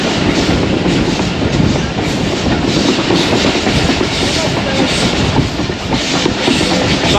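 Passenger train 101UP Subk Raftar near Lahore rolling along the track on a foggy morning, a loud, steady rumble with continuous clickety-clack of wheels and hissing air throughout, heard from close by.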